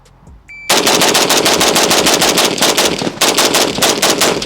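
A DSA FAL rifle fires a 20-round magazine in rapid semi-automatic succession. The shots come as a loud, close, fast string of sharp cracks after a brief quiet start, with one slight hitch partway through.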